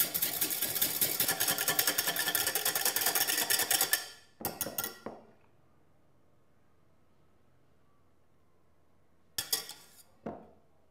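Whipping cream until stiff with an electric mixer: a loud, steady whirring buzz for about four seconds, then short bursts of beating and clinking of the bowl separated by near silence.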